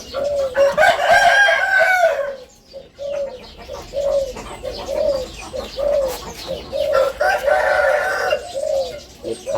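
Crossbred fighting roosters with white-powdered faces call up close and loud, with repeated clucks and short coos running between two long crows.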